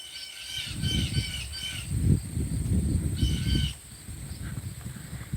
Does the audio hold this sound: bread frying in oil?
no